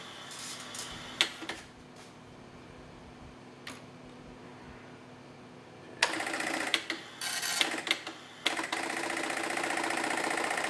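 A vintage computer printer feeds and prints a page, starting with a few isolated mechanical clicks and then breaking into loud, dense bursts of rapid buzzing print-head chatter in the second half.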